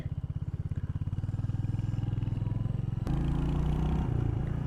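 A Royal Enfield Hunter 350 motorcycle engine thumps steadily at low revs during a slow turn, then its note shifts to a rougher, louder rumble partway through, close and alone.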